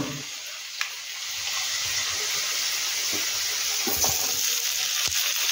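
Potatoes and pumpkin frying together in a pan, a steady bright sizzle that holds throughout, with a few soft clinks and stirring sounds near the end.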